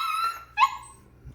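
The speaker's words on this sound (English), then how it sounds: "he's going to be doing a lot of this, and even laying down and barking" A Goldendoodle puppy in its crate gives a high, drawn-out whine and then a sharp yelping bark, close and clear, with no voices.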